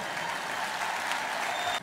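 A large audience applauds at a political speech, a continuous, dense wash of clapping held at an even level for nearly two seconds before it cuts off abruptly.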